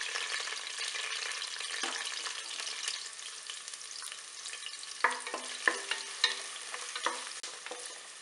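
Onions frying in a pan for veg biryani, a steady close sizzle with occasional scraping stirs and small clicks of the spoon against the pan.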